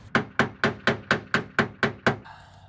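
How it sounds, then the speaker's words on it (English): Nine evenly spaced, sharp hammer blows ring out against a car body panel, struck through a microfiber-wrapped 2x4 on a 350z, each hit loud and close with a short metallic decay, ending in a faint hum. "we're going to get hammering away because I'm tired of dealing with this"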